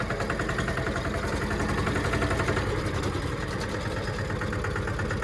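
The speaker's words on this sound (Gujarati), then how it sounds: "હવે ટ્રેક્ટરનો અવાજ આવતો હોય છે" A tractor engine runs steadily at idle with a low, rhythmic chugging and vibration, loud and continuous with no other sounds.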